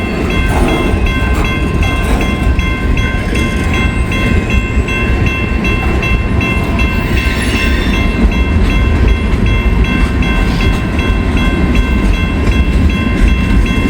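A long freight train of scrap-loaded cars rumbles past close by, a loud continuous roar of wheels and clattering cars with steady metallic squeal, no voices.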